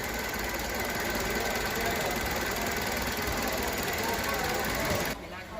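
A steady, rough 1.8-litre petrol car engine idling, unbroken for several seconds, loud and close, then drops abruptly near the end.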